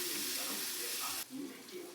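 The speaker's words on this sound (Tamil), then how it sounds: "இந்த தண்ணி ஊற்றிட்டுங்க." Water poured into a pan of spice mixture while making idli thokku in a home kitchen: a steady, quiet splashing hiss that cuts off abruptly halfway through, followed by faint low kitchen sounds.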